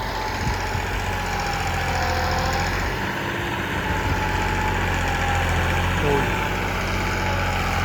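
A turbocharged Massey 9500 diesel tractor engine idles steadily and loudly nearby, a low continuous rumble with a slight rise in revs, and a voice speaks over it.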